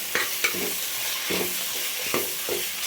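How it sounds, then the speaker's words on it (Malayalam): Chicken curry with chicken masala stirred in a pan: a steady run of scraping spoon strokes, about five distinct scrapes against the metal over a continuous gentle sizzle, close and moderate in level. "ചിക്കൻ മസാലയും ചേർത്ത് നന്നായിട്ട് വീണ്ടും ഇളക്കുക."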